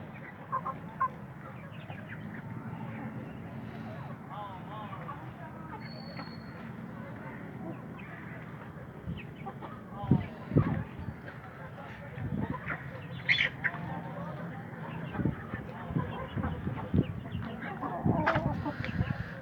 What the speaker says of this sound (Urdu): مرغیاں یہ پتے بڑے شوق سے کھاتی ہیں۔